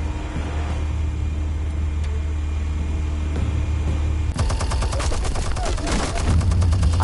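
Explosions and gunfire in a Batman video game: a steady rumbling bed gives way to a dense burst of rapid crackling shots and blasts that fill the second half, loud and close.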